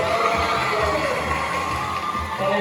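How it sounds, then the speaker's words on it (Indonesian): Audience at a stage performance cheering and shouting, a dense continuous roar of many voices with children's shouts mixed in, loud and close throughout. "minta tepuk tangannya."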